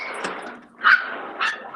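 A dog indoors gives a few yips and barks, medium-close and fairly loud, spaced over a couple of seconds with faint room noise between.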